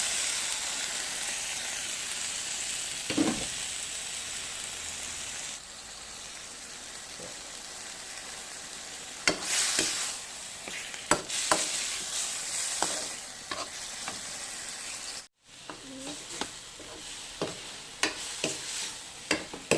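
Eel pieces stir-fried with curry paste in a hot wok for a spicy Thai dish, a steady sizzle with scraping stirs and clinks of the spatula, close and clear, sharper bursts of frying after the midpoint.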